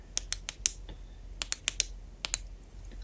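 The tail button of an Olight I5R rechargeable EDC flashlight is clicked, giving sharp, close clicks in quick pairs and small bursts with no talking.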